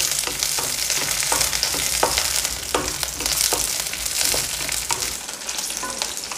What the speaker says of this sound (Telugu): పచ్చిమిరపకాయలు పేల్తాయండి అందుకని తుంపుకొని వేసుకోవాలి ఇప్పుడు వీటిని దోరగా వేయించుకోవాలి